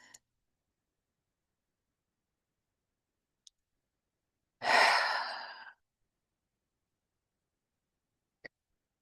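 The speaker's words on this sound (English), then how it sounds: "let's take a deep breath" A single deep breath taken in a quiet room during a calm grounding moment, one long drawn inhale lasting about a second, close and soft, with faint clicks before and after and silence around it.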